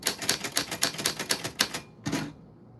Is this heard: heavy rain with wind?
no